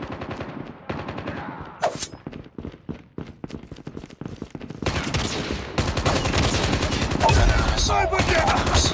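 Rapid bursts of gunfire from Call of Duty Mobile crack in quick succession, with sparse shots early giving way to denser, louder automatic fire and in-game voice callouts.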